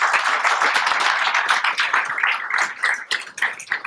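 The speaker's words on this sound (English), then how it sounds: "give him a warm round of applause for TJ" Warm audience applause at a SwiftConf 2017 tech conference welcoming speaker TJ Usiyan to the stage, a dense, steady patter of many hands clapping close and loud for about four seconds with no talk.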